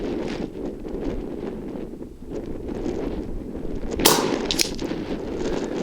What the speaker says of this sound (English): wind's really pushing now